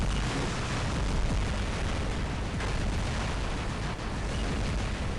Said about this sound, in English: Yeah, I can fire at this guy's shield.